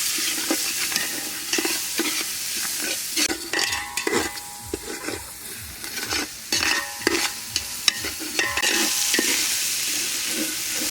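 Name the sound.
spices being stir-fried in pan for chicken curry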